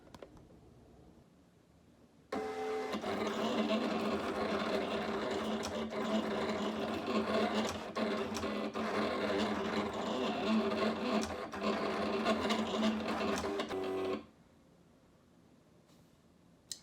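A craft cutting machine fitted with a sketch pen draws a Happy Easter design, a steady whirring and buzzing motor drive with small rhythmic shifts running for about twelve seconds between quiet stretches.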